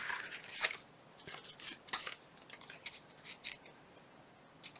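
Scissors snipping paper while decorating a Christmas pocket booklet, several quiet, close crisp cuts in irregular bursts, no voices.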